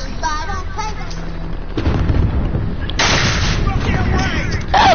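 Gunfire and explosions in a war video game: dense, loud bursts of shots and booming blasts that grow heavier midway, under a player talking excitedly.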